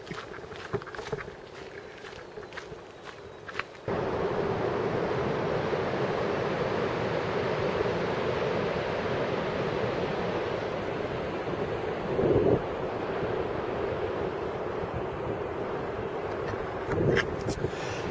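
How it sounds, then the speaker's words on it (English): Ocean waves crash on rocks near sea caves, a steady rushing surf roar under wind buffeting on the microphone, with a few crunching footsteps at the start and brief louder surges later. "But you can hear them crashing on the rocks."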